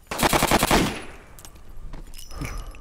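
Rapid automatic gunfire from a gun in Call of Duty: World at War, a fast, loud, close burst of about a dozen shots in the first second, then quieter clicks and handling noise.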